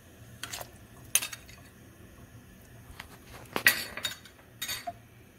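A utensil stirs butter into semolina cake batter in a bowl, producing a handful of sharp clinks and scrapes against the dish with quiet gaps between them, near and with no speech.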